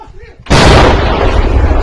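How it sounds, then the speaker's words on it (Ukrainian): A single loud artillery cannon blast, fired as a farewell salute toward the enemy, erupts abruptly after a brief quiet moment, followed by a long rumbling roar that lingers and slowly fades. "Побратими ж Дмитра попрощалися із ним по бойовому обстрілом ворога."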